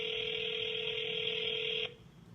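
A telephone call being placed: a steady electronic ringback tone holds loud and unbroken for nearly two seconds, then cuts off abruptly, leaving a low hiss.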